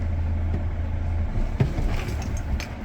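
An HGV lorry engine running in gear during a trailer brake shunt test, a steady low diesel rumble with a brief knock partway through, no talking.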